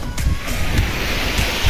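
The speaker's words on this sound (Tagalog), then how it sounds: "Ito ang dagat dito." Sea waves wash and rumble steadily at Alegria, Siargao Island, with gusts of wind buffeting the microphone and a low surging roar.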